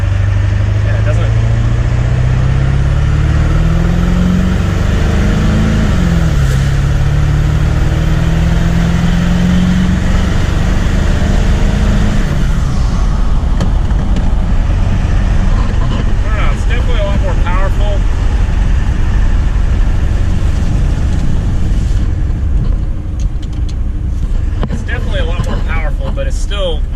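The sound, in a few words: Ford 7.3 Powerstroke diesel truck accelerating from a stop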